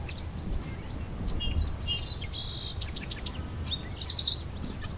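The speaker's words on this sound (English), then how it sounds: "And a yellow warbler." A yellow warbler sings its sweet, rapid series of high notes among other birdsong in a Southern Ontario summer setting, fairly faint, ending in a brighter, louder burst over low ambient noise.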